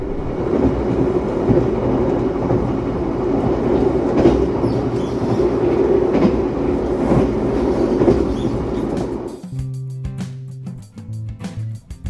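Heard from aboard, the Bogowonto stainless steel passenger train rolls with a loud, steady rumble and rhythmic wheel clatter, then slows to a quieter hum with tonal brake and machinery sounds near the end.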